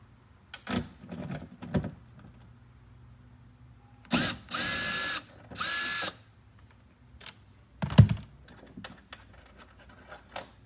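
A power drill spins out the roof spoiler bolts on a Kia Sportage in short, loud bursts, with a few softer mechanical clicks and handling noises between them and no talking.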